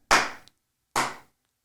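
Two loud, close hand claps about a second apart, each crisp with a short fading tail and silence between, with no talk.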